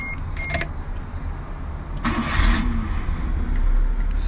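A Mitsubishi Minica kei car's engine is cranked and catches quickly, following a brief electric whine and clicks, then settles into a steady close idle with a slight rev.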